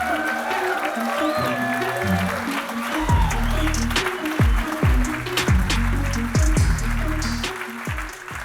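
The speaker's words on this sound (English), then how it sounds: "A warm round of applause for Theodo's very own Mo Khazali." A conference audience at React Native London claps for the event's MC, with scattered applause and cheering swelling, while a strong repeating low boom, likely walk-on music, pulses underneath.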